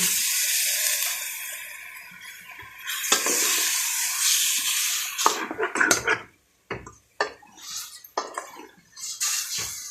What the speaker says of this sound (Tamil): லைட்டாக தண்ணி ஊற்றிக்கிறேன்.